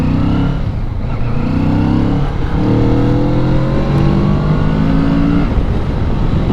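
Kawasaki Z650RS two-cylinder 650cc motorcycle with stock exhaust, running in Manila traffic; a loud, steady engine drone rises through several revving climbs, close and continuous, with no talking.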